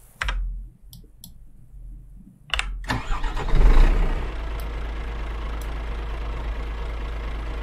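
A truck engine in Euro Truck Simulator 2 clicks a few times, cranks, then catches and settles into a steady low idle with no talking.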